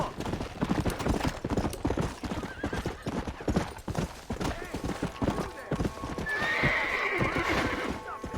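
A horse gallops in the Red Dead Redemption video game, rapid rhythmic hoofbeats driving throughout with a whinny near the end, while a player speaks over the action.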